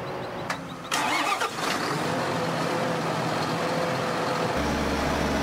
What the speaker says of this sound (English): All right, let's go get our tractor.